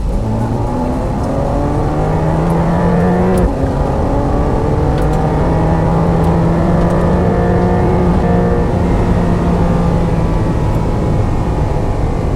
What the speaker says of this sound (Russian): Сейчас мы чуть-чуть притопим, посмотрим, как машина разгоняется.